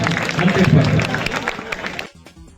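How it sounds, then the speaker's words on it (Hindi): An audience at a political support gathering in Azamgarh applauds to welcome a guest, loud dense clapping with crowd noise mixed with voices, cutting off abruptly near the end. "ताली बजा के दोनों हाथ से स्वागत करिए"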